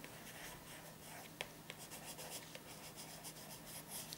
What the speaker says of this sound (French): Hein, j'écris aimant.